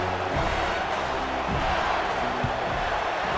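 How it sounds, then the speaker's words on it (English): A college football stadium crowd at an Oregon versus LSU game buzzes loudly after a score, a dense roar of many voices that stays steady and near throughout. "this crowd is buzzing after that last score"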